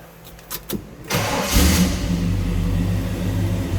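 A 1969 Chevrolet El Camino engine cranks briefly, then catches with a loud burst and settles into a steady, close, rumbling idle.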